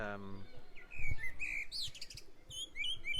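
A male blackbird sings clear, fluting phrases in bursts, loud and close, with faint low voices and rustling underneath.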